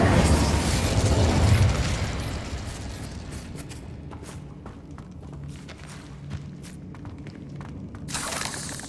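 A Confringo fire spell exploding in Hogwarts Legacy, a loud booming burst at the start that decays into crackling rumble and scattered debris pops, with another sharp burst near the end.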